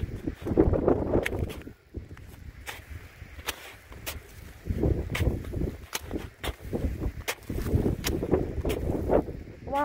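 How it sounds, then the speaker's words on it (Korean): Wind gusting on the Mount Teneriffe Loop Trail near North Bend, Washington, buffeting the microphone in low rumbling surges that rise and fall, with faint intermittent clicks throughout. "바람"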